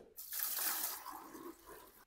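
Water poured from a container during a homemade free energy test, a close, steady splashing pour that runs for about two seconds and tapers off near the end.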